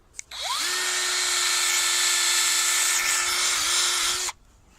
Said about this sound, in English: And we drill the holes like